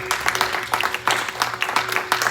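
Congregation applauding during a church sermon, a dense, steady wash of many hands clapping close by, continuous for about two seconds with no speech over it.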